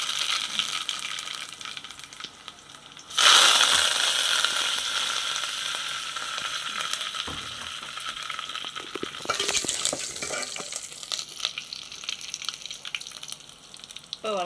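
Onion and curry leaves frying in hot oil, with a sudden loud sizzle as they hit the pan, then continuous crackling and scraping stirring, near and alone without talk.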